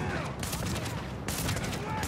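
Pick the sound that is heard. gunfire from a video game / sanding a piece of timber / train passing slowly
gunfire from a video game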